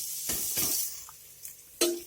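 Grated coconut hits hot ghee in a pan, with a couple of sharp sizzling bursts and stirring scrapes followed by a final loud splash of sizzle, close and brief with no talking.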